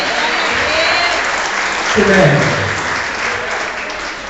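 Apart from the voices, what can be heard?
audience applauding in church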